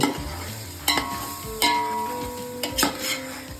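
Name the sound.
stirring biryani masala in a hot pan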